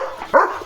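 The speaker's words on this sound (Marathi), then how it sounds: "कशाला भुंकतोय बघा" A German Shepherd dog lets out one short, close bark, preceded by faint low whimpering.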